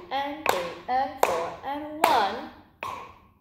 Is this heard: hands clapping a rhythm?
yes